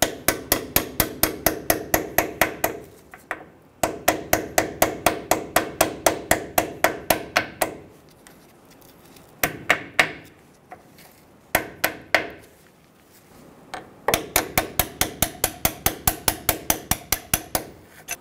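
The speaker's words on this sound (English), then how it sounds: "Using a hammer and a punch, we're going to pull these pins out." Hammer striking a punch to drive out corroded brake pins on a 2005-2015 Toyota Tacoma front brake, sharp metallic blows in fast rhythmic bursts with short pauses between runs, close and loud.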